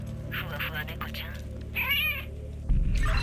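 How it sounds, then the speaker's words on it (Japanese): A cat meows several times in The Division 2 video game, close and clear over a low humming background, with a burst of other sound at the end. "ふわふわ猫ちゃん。"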